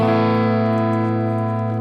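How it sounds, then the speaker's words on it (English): An electric guitar chord rings through a Plexi-style Marshall amp model set for crunch distortion, one sustained, gritty chord fading slowly, close and loud with no talking. "These Plexi style Marshall amps, they're getting distortion out of the power amp"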